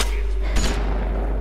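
Gunfire in the video game Grand Theft Auto 4, a brief burst of impacts over a constant low game rumble and hum, loud and close.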